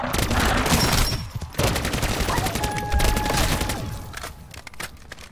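Gunfire in the video game MW3 Zombies, dense rapid automatic bursts that run almost continuously with brief pauses, loud and close.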